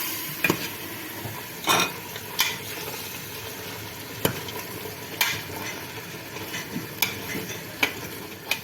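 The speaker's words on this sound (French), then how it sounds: "Le pois chiche, vous le mettez bien et après vous continuez de touiller." A spoon stirs chickpeas in a pot for couscous over a soft frying sizzle, giving irregular scraping knocks against the pot, close and with no talking.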